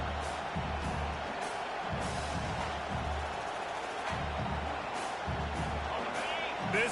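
Crowd at a college football game: a steady, broad roar of fans in a stadium, with a few sharp thuds, running under a commentator's voice.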